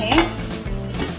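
A lid goes onto a cooking pot of bombil (Bombay duck) rassa with a brief, close metallic clatter, then a short, softer rattle.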